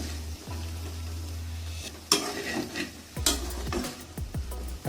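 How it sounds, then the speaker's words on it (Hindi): Vegetable flower macaroni gets stirred in a pan, a soft sizzle broken by a few sharp scrapes and knocks of a spoon against the metal, close and unaccompanied by speech. "अच्छी तरह मिक्स कर लेंगे।"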